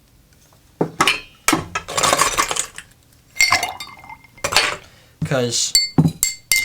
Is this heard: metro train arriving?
no